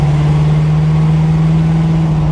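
A 1977 Chevy Monte Carlo engine runs steadily at idle, with a constant low droning hum and an even mechanical rumble, close up and unbroken, with no talking.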